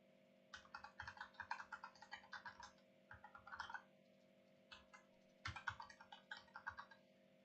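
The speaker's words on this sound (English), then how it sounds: "you can probably hear my keyboard, which is a mechanical keyboard" Bursts of typing on a mechanical keyboard, close up and fairly quiet, with rapid clicky keystrokes in uneven runs separated by short pauses over a steady low electrical hum.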